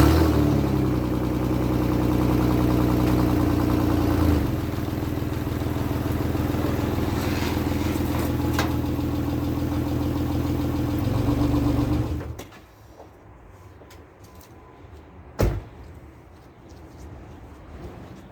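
A Dodge Journey engine idles steadily up close as the SUV backs slowly down off ramps after an oil change, a low even hum that cuts off abruptly partway through, followed by quiet and a single sharp knock.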